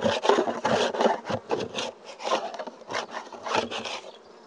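A beehive frame is scraped clean, with a series of irregular rasping, rubbing strokes of a tool against wood, close and fairly loud. Faint bee buzzing may sit beneath the scraping.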